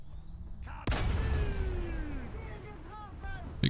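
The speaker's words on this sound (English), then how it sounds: "Big explosion as well." In World of Tanks, a big explosion strikes near the Maus super heavy tank: one sudden, loud blast followed by a long decaying rumble with faint whistling tones fading out.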